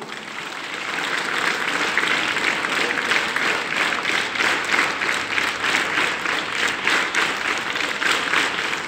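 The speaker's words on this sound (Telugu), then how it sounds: "ఆ కేసీఆర్ కి చప్పట్లు గట్టిగొట్టండి మళ్ళీ." A large rally crowd gives loud, sustained applause in praise of KCR in Nalgonda, dense clapping that swells and holds steady for several seconds without a break.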